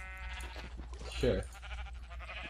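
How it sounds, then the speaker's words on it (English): A Minecraft sheep bleats once, a short wavering cry in the middle, heard under someone speaking briefly and a background music drone. "look at these sheep here for us"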